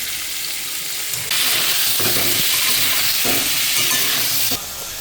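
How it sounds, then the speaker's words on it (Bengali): Paneer pieces frying in a pan in a home kitchen, a loud steady sizzle swelling up after the first second and holding strong until near the end, close and continuous with no voices. "পনিরগুলো ভেজে নিচ্ছি।"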